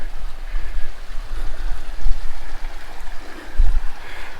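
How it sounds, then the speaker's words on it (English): A small creek flowing outdoors along a trail in southern Colorado, a steady close rushing and trickling of water with low rumbling, heard alone. "Somewhere it's got to cross the little creek."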